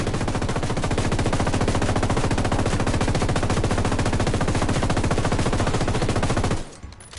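Sustained, loud machine gun fire in Ghost Recon pounds out in a rapid, even rhythm for several seconds, then cuts off abruptly near the end.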